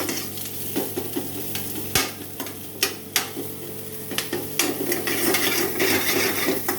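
Sliced onions frying with whole cumin in a pan, a continuous soft sizzle broken by several sharp scrapes and knocks of a spatula stirring against the pan, close and clear with no talk.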